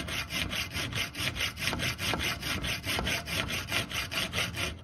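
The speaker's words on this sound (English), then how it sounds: "a little bit of filing" A hand file works metal on the sliding door stop of a Ducato van in steady back-and-forth strokes, roughly four per second, giving a close, rhythmic rasping scrape with no talking.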